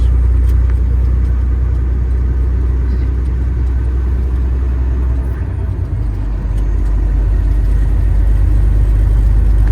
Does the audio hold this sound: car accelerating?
yes